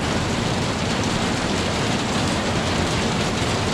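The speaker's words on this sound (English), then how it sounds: "Rain all over the place." Heavy rain pouring steadily outside a house, a dense, continuous broadband wash with no pauses and no voices.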